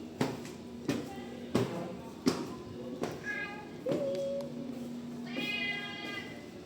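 A cat meows repeatedly, several clear calls in a row, close by, with a few light taps and thumps between them and faint background voices.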